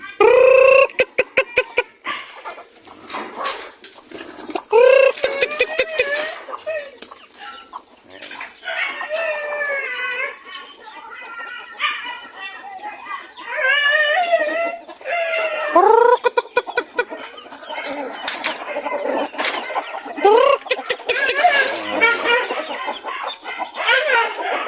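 A flock of native chickens kept on a farm, with busy clucking and squawking close by and occasional crowing, loud and continuous with many overlapping birds.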